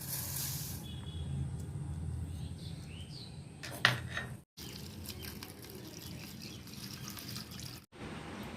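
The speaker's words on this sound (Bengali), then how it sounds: "প্রথমে বিউলির ডালটাকে বা উড়দ ডালটাকে আর চিড়েটাকে একটু ভালো করে ধুয়ে নেব।" Urad dal and flattened rice are rinsed under running water, a steady close splashing and trickling with a few clinks and two brief pauses, no talking.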